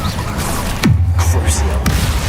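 A spell bursts out in Hogwarts Legacy, a sudden whooshing boom that falls into a deep rumbling burn, with a second blast following about a second later, loud and close.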